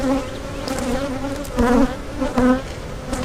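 Honeybees buzzing around an opened hive during a health check for European foulbrood, a dense, close, continuous drone with individual bees swelling louder as they fly past.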